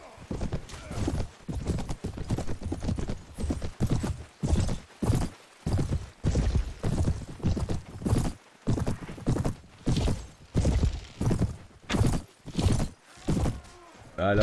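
Horse hooves pounding in the video game Mount & Blade, a steady rapid galloping clip-clop that keeps up throughout, loud and close, with someone speaking over it now and then.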